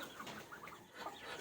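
Hens and other chickens cluck steadily while feeding on a concentrate mixed with cracked corn, several birds chattering at once at close range in a continuous, busy flock murmur.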